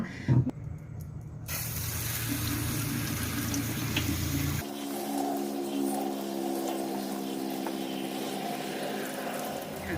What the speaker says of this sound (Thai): คุณผู้ชมเราจะนำเห็ดไปล้างทำความสะอาดนะคะ